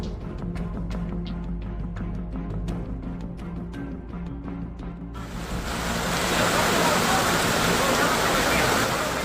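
Floodwater rushes through Barengkok in Bogor, Indonesia, after days of heavy rain, a steady broad roar that swells louder partway through, with faint voices underneath at first.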